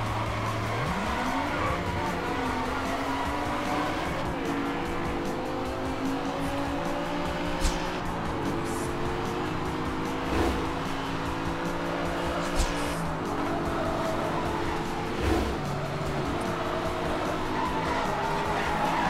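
Video-game car racing through a forest at night, with a steady engine drone that rises and falls through gear changes and repeated tire squeals and skids, continuous and fairly loud throughout.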